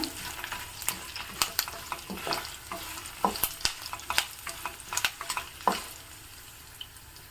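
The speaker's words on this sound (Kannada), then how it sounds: "ಚೆನ್ನಾಗಿ ಚಟಪಟ ಅಂತ ಸೌಂಡ್ ಬರ್ತಾ ಇದೆ" Tempering splutters in hot gingelly (sesame) oil, a soft sizzle broken by a quick irregular run of sharp pops and crackles that fade toward the end.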